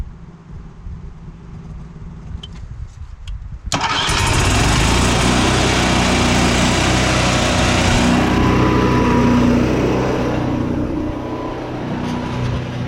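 An RV generator engine cranks briefly and then starts, settling into a loud, steady running drone close by that holds for about nine seconds.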